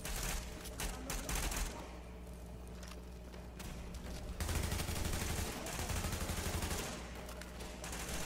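Gunfire in The Division video game as electrical panels are shot: bursts of rapid automatic fire, a quieter gap, then a sustained volley, fairly faint under game ambience.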